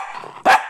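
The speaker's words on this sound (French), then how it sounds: "Tu nous fais un petit aboiement avant ? Aboie." A dog gives one short, loud bark on command, close by, after a brief stretch of softer sound.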